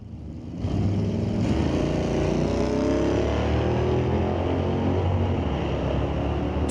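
A 1984 third-generation Camaro drag car launches at Mission Raceway Park, a loud, sustained engine roar that rises abruptly and holds steady while accelerating down the strip.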